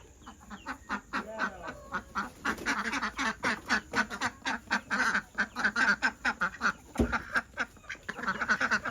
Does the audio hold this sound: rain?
no